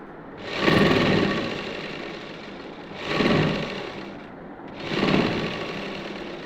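Close, loud sewing machine stitching a housecoat's shoulder seam in three long whirring runs separated by brief slowdowns, with no voices.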